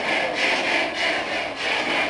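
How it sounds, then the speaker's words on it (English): A saw driven by a 20-horsepower steam engine cuts lumber in a steady back-and-forth rasp, each stroke swelling and fading in a regular rhythm, close and alone. "The sound of sawing lumber. Powered by steam, 20 horsepower steam engine."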